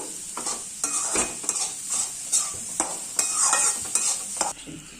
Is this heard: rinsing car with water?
no